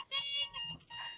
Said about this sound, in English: did not know that my alarm was gonna go off